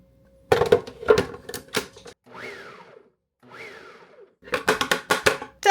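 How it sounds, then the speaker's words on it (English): A kitchen blender crumbles cooked liver in several short bursts, each a loud whirring grind with brief pauses and a rising-falling motor whine between pulses. "put it in our blender here"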